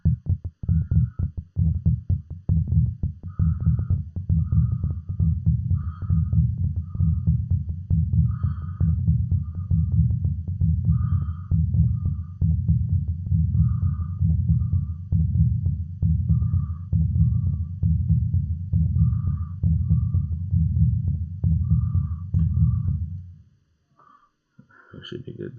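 Techno rumble bass made of a deep, continuous throbbing low-end pulse driven by a fast steady kick, with gated reverb that cuts the tail short, sparse higher blips on top, and a brief dropout near the end.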